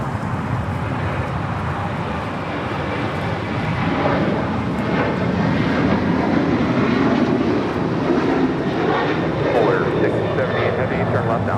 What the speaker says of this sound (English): That is that flight coming in from Anchorage, the 777 Polar Air Cargo.